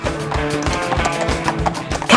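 Horses of the King's Troop clip-clopping, their hooves striking hard ground in quick, close, irregular beats, with a brief snort or neigh near the end.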